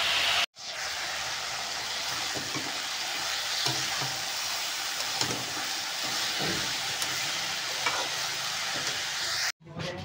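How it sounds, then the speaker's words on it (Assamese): Bottle gourd and potatoes fry in a pan with a steady, continuous sizzle lasting about nine seconds, broken by brief clicks at the start and end, close up and without speech. "ইয়াত লাও আৰু আলু ভাজি বহাই দিছোঁ।"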